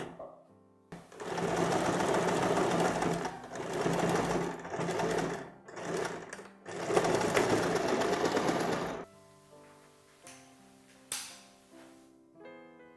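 A sewing machine runs a lock stitch along a garment seam finish in steady bursts of several seconds, with brief pauses between, then stops; quieter handling and fabric shuffling follow near the end.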